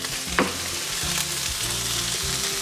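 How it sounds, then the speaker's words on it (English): Broccolini and chanterelle mushrooms sizzle and fry steadily in hot olive oil. The sizzle is loud and close, with a few brief stirring knocks and scrapes over it. No one speaks. "I'm going to just let this sizzle for a minute."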